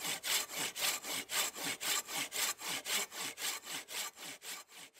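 A hand saw cuts through a tree trunk at a winter campsite with a steady back-and-forth rhythm of about three rasping strokes per second, close and clear.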